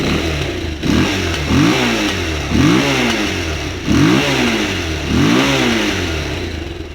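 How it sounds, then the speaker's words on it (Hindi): A Bajaj Pulsar 220F single-cylinder motorcycle engine revs hard five times in steady succession, each throttle blip rising and falling over a rumbling idle, close and loud with no talking. "तो यो आवाज़ है भाई मोटरसाइकिल की आवाज़ भाई"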